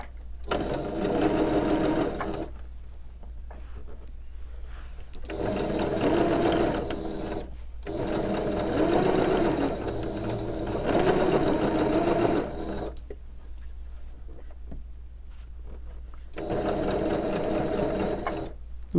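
A sewing machine stitches a memory bear sewn from pajama pants, running in steady whirring bursts of a few seconds each with short quiet pauses between them, close and loud.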